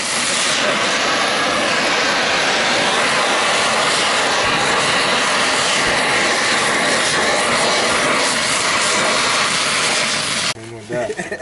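Car engine idling and revving through a patched turbo exhaust, loud, raspy and continuous at close range, cutting off abruptly near the end.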